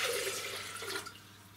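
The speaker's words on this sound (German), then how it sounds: "Ich brauche jetzt 1 Liter Wasser." Water pours into a Mambo kitchen machine while making woodruff syrup, a steady close splashing stream that thins out toward the end.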